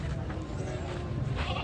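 Goat bleating amid the bustle of a busy livestock market, a steady animal cry against dense crowd murmur and background noise, fairly loud and close.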